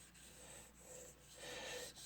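A soft, dry scratching rasp repeats in short back-and-forth strokes, quiet and close, as a blade is worked across a Thuringian slate sharpening stone.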